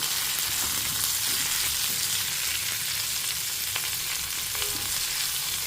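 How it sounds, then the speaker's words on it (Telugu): Mint leaves sauté in a pan for a mint chutney, producing a constant, dense crackling sizzle at fairly close range with no voices over it. "మొత్తం మగ్గిపోవాలన్నమాట పుదీనా అంతా"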